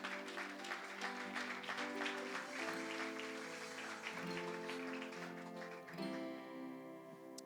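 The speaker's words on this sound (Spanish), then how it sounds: "Dale un aplauso al Señor" A church congregation claps along through a worship service while music with sustained tones plays underneath, the clapping steady and fairly faint throughout.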